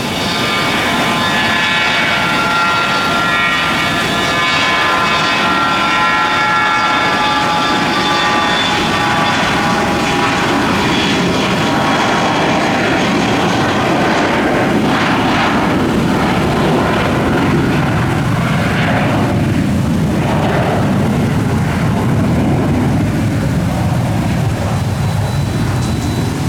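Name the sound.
airplane passing at airport, cargo conversion plane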